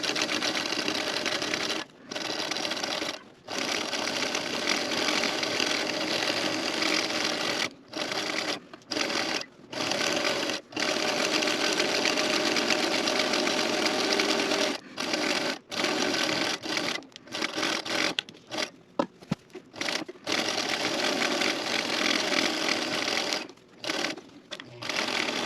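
A sewing machine runs steadily in long continuous bursts, stopping briefly several times before resuming its fast, even stitching.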